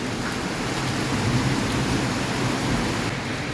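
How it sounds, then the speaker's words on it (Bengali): Heavy rain pours down steadily in a dense, even hiss with no pauses. "প্রচণ্ড জোরে বৃষ্টি হচ্ছে"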